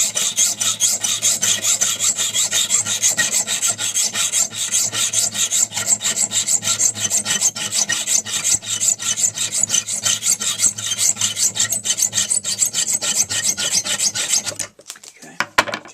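Steady, fast back-and-forth rasp of a small hacksaw cutting through a screw clamped in a vise, loud and close for about fifteen seconds before stopping with a few handling knocks.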